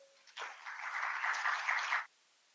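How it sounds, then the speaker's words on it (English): Sustained audience applause fills a hackathon inauguration ceremony hall, starting abruptly after a short lull, holding steady and loud for under two seconds of dense clapping, then cutting off sharply. "A huge round of applause"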